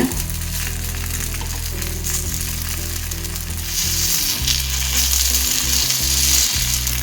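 Kuzhi paniyaram fry in oil in a cast pan as they are turned, a loud continuous sizzle with a low hum beneath and brief scraping of the turning tool.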